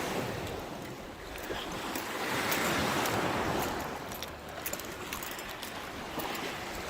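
Gentle waves wash against the Lake Superior shore near Bathtub Island on a calm day, a soft continuous surf that swells and recedes, mixed with light wind buffeting.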